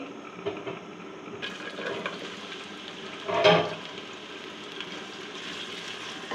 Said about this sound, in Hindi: और इधर मैंने 1 कप कुकिंग ऑयल लिया है और ये गर्म है। और इसमें प्याज डालूंगी।